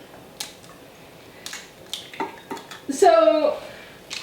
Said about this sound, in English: I'm also going to be putting eggs into our Bunt pan